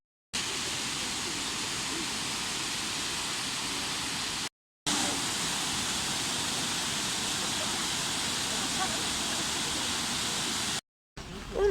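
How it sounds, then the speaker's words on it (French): Langevin waterfall, a steady, dense roar of falling water filling the whole span, broken by two brief cuts, with no voices. "On est donc allé voir la cascade Langevin."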